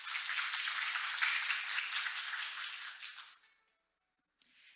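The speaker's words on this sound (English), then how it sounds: "Ladies and gentlemen, please give a big round of applause." Audience applause at an international symposium on traditional medicine, a full steady burst of many hands for about three seconds that fades quickly into silence.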